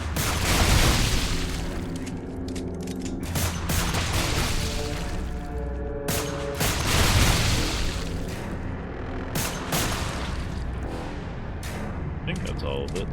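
Explosions in the video game Lost Planet 3 erupt as repeated heavy booms in a dense, loud barrage with rumbling debris between blasts.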